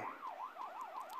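A police car siren in the video game Rope Hero: Vice Town wails in a fast, repeating up-and-down warble at a military camp, faint and steady, with no talking.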